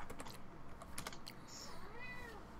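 A house cat meows faintly in the background, a short rising-and-falling call heard behind steady computer keyboard typing and clicks.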